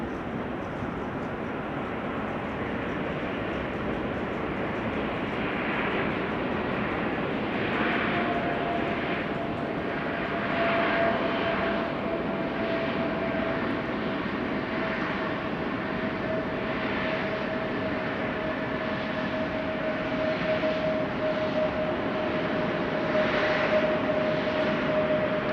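A German Airways jet departs at Amsterdam Schiphol Airport, a steady distant roar of jet engines with a faint whining tone that holds evenly throughout, no voices.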